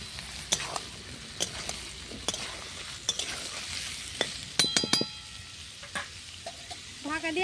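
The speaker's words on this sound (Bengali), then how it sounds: "পেঁয়াজ আলু একসাথে ভাজা ভাজা হয়ে যাবে।" Potatoes and onions fry together in a pan over a clay stove. A soft, steady sizzle runs throughout, broken by sharp scraping clicks and clatters as they are stirred, close and fairly quiet, with no talk.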